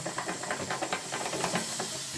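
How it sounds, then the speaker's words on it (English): Rapid, repeated bristly toothbrush scrubbing strokes on a Nespresso machine during cleaning, with a soft hissing rasp, fairly close and steady, no voices. "Then take the toothbrush,"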